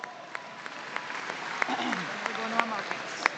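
Audience applause at a state fair FFA livestock show, scattered, fairly light clapping in a large arena with some sharper individual claps and background voices.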